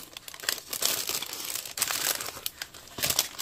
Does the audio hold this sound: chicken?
no